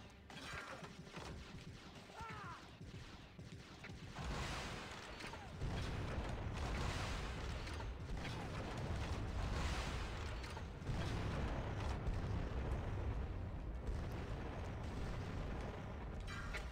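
A rocket cluster weapon in the shooter Turok Evolution fires and explodes, with quieter mechanical clicks at first, then a loud rolling string of blasts and rumbling booms that keeps going to the end.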